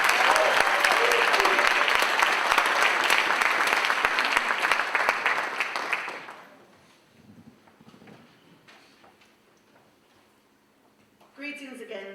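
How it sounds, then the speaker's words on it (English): A hall audience at a Pan-African talk applauds a speaker with loud, sustained clapping for about six seconds, then it fades into quiet room noise with shuffling and faint talk near the end. "give her a warm round of applause"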